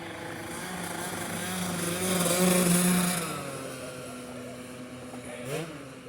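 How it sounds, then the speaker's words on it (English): A modified Vespa scooter with a souped-up engine rides by on an Italian street, its buzzing engine rising loudly as it passes close, then fading away, followed by a brief revving burst. "In Italy, this young guy just rode by on a Vespa, or a souped up one. He's modified the engine."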